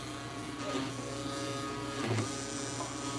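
A quiet, steady high-pitched electric buzzing drones throughout, with slight shifts in tone as the tool's speed changes.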